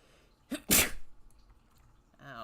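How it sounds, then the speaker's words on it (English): A single sharp sneeze from a video game character, close and loud, followed by a brief breathy tail and a faint tonal game sound at the end. "Hurt myself sneezing."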